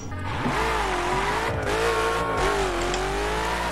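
Koenigsegg Agera R engine in the racing video game The Crew, revving hard with rising and falling pitch through gear changes and a brief tire squeal, loud and close with no talk.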